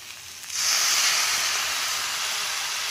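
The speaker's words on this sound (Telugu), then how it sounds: "ఇప్పుడు పుదీనా వేసుకుంటాం" Fresh mint leaves hit a hot pan in a Telugu kitchen while cooking a mint and ivy gourd peanut dish, bursting into a loud, bright sizzle that swells suddenly and then holds as a steady close hiss.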